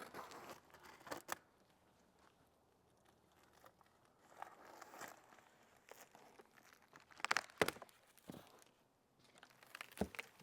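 A blade slices open the cardboard packaging of a Pit Boss pellet grill, making scattered close scratches, crinkles and tearing rasps with short pauses between them. The cuts are quiet and come with no speech.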